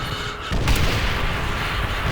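An artillery strike in Call of Duty: World at War booms in with a loud, heavy blast and a sustained rumbling roar of impacts, close and dense, with no talk over it.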